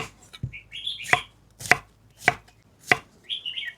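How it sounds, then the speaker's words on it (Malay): A knife chops onions and chillies on a board in four sharp, evenly spaced strikes, close and distinct, with faint bird chirps between them. "mai kita potong bawang, potong lado deh"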